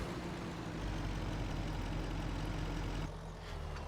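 A diesel truck engine in Farming Simulator 25 runs steadily at close range, a low droning idle that holds for about three seconds before its tone shifts and drops slightly, continuing alone without talk.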